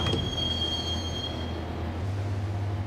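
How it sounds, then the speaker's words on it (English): A train in the Max Payne video game rolls along with a low steady rumble and a thin, sustained wheel squeal, moderately quiet and continuous, with no speech. "the train doors had already shut behind me, and I was in for the ride"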